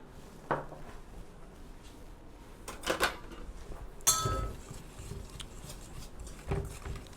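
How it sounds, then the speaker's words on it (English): A spoon works confectioner's sugar and apple brandy together into a glaze in a bowl, giving sparse light clinks and scrapes against the bowl in a quiet room. "So I'm going to mix that together."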